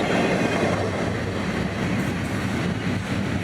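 Florida East Coast Railway train 107, departing Jacksonville for Fort Lauderdale, rolls past close by with a loud, steady rumble and faint rhythmic clatter of wheels, with no one speaking.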